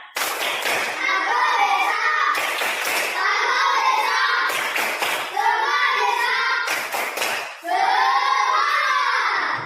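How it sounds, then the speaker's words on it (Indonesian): A group performs the rhythmic 'tepuk semangat' spirit clap in an Indonesian school session, with bursts of patterned clapping alternating with chanted voices in a repeating cycle, loud and close. "Oke, tepuk semangat."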